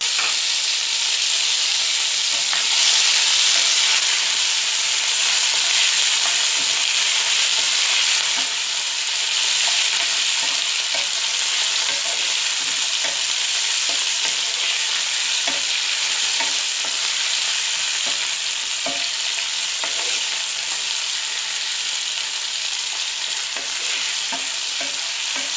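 Cashews, melon seeds, tomato and chilli frying in hot oil, a continuous bright sizzle with crackling pops and occasional stirring scrapes, close and steady with no talking.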